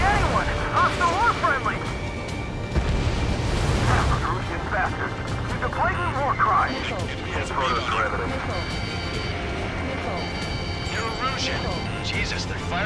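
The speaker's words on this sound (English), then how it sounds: "Jesus, they're firing at each other." Dense, loud bursts of gunfire and explosions in the Ace Combat 7 air-combat game's Homeward mission, a near-continuous barrage with radio chatter talking over it.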